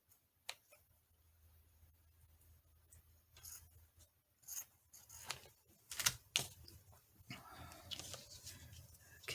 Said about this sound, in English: I guess I am just going to have to cut this side